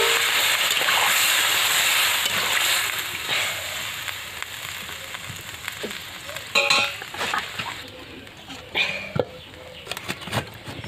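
Water is poured into a pan of fish-head kohlrabi curry at a village cooking fire, giving a loud hiss and sizzle that fades to softer bubbling with a few clinks of utensils.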